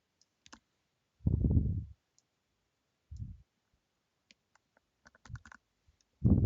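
Mouse clicks and short bursts of computer handling noise while working in ZBrush: isolated light ticks scattered across quiet gaps, with several louder thumping bursts close to the microphone.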